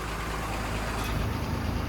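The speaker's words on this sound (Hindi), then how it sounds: "अब उतारते हैं गाड़ी नीचे कांटे से।" A truck loaded with bananas drives down off a weighbridge, its engine a low, steady rumble close by, continuous throughout with no talk.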